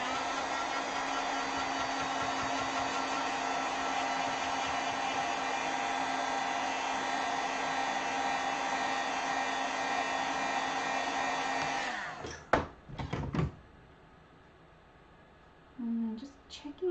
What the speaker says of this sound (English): I will heat set this so it's nice and dry before we keep moving on.